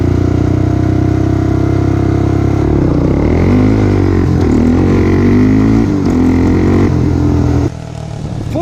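A stock-sprocket Honda 400EX ATV accelerates hard on a timed speed run with wheel spin, its single-cylinder engine loud and close, revving steadily upward through gear shifts before the sound drops away near the end.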